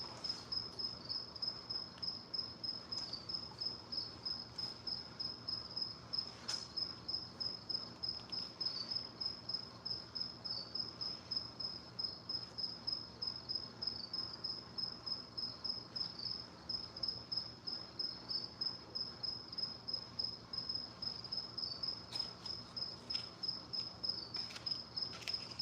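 Crickets chirp steadily in a continuous, even pulse, a faint high trill that carries on alone for the whole stretch with no talk.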